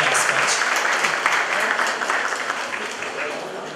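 A crowd at a high school pre-graduation ball in Kamienna Góra, Poland, applauds after a welcome, producing a dense, steady roar of clapping that slowly softens toward the end.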